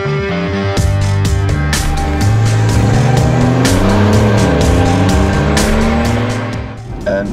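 A BMW 1 Series prototype with a 1.5-litre three-cylinder twin-turbo engine drives past, loud and close, its continuous engine drone rising and falling in pitch, with brief tyre noise over the engine.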